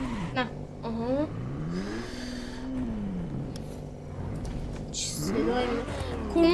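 Ferrari supercar engines in The Crew Motorfest whine and rev up and down under ongoing conversation, with the pitch climbing and dropping as gears shift.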